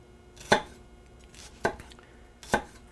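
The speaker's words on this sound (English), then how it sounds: "Now that I have my onion diced" A knife dicing onion on a cutting board, three sharp separate chops spaced about a second apart, close and crisp, with no voices.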